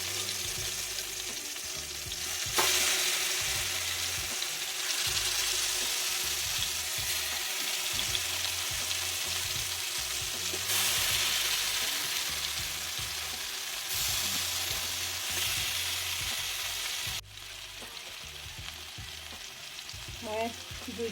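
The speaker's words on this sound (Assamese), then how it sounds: "মই এতিয়া তেল ঢালিলোঁ চিকেনখিনি ভাজিবৰ কাৰণে।" Chicken pieces fry in hot oil on a low flame for butter chicken, a continuous close sizzle with occasional stirring and scraping pulses, no talking.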